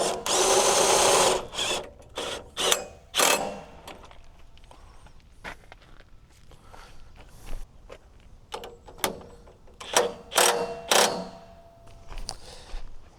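Bolts on a Woodland Mills sawmill are snugged with a power driver during setup, giving several short, loud whirring bursts separated by clanks, handling noises and quiet gaps.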